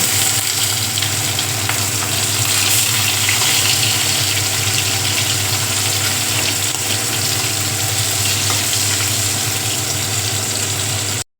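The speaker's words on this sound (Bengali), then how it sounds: "এদিকে বসিয়েছি মাছ ভাজার জন্য তেল গরম।" Oil heats in a pan for frying fish and gives a steady, close sizzle with a low hum beneath it. The sound holds evenly for about eleven seconds and then cuts off.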